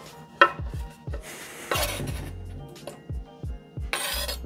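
Chopped squid being tipped into a bowl in a home kitchen: a sharp clink, then scraping of a knife or spoon against a dish and a series of soft thuds and clatters, close and moderately loud.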